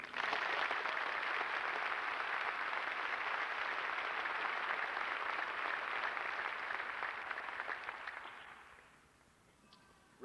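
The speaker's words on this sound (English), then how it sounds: "Please give them a hand" Sustained applause from a school event audience honoring the assistant principal and the principal of Deer Park Middle School, dense and steady for about eight seconds before tapering off to quiet.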